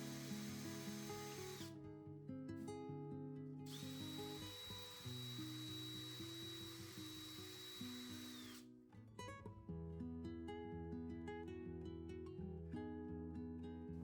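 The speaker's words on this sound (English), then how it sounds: "then drill the hole for the motor rod" An electric drill bores a hole for the motor rod through a model railway baseboard during a TT120 exhibition layout build, giving a steady high whine that runs for several seconds among other background sounds.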